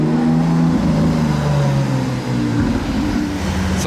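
A Rolls-Royce Cullinan Series 2 rolls past on a Monaco street, its engine a steady, loud low rumble that holds throughout with a slight dip midway, no voices.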